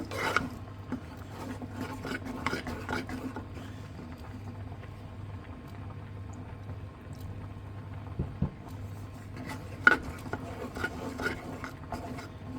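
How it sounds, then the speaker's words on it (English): A chicken and bacon pasta sauce is stirred in a pan on an induction hob while milk is added: intermittent scraping and rubbing strokes, busiest early and again near the end, over a steady low electrical hum. No one speaks. "I'm just going to keep stirring and adding the milk until it's ready for the cheese to go in"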